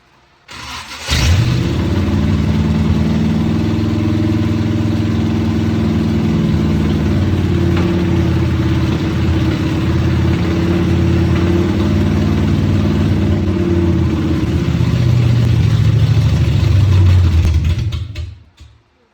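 A 1971 Chevy Nova with a big block Chevy V8 fires up for the first time and settles into a loud, steady, rumbling idle that runs close and continuous for the whole stretch.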